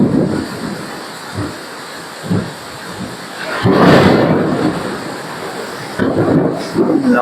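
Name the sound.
heavy rain with thunder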